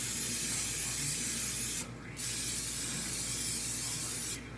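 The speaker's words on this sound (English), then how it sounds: "Pans are sprayed, set these aside." Cooking spray hisses from a can onto cake pans in two long, steady bursts separated by a brief pause, close and fairly loud, with no talking.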